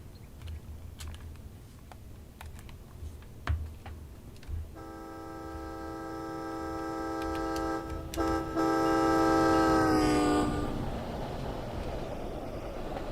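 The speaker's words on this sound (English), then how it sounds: "And watch the train, well, sort of whiz by." A Boston Sprinter train in Train Sim World 2 rushes past on the Northeast Corridor, its horn blaring steadily for several seconds over a low rumble before the pitch drops sharply as it goes by.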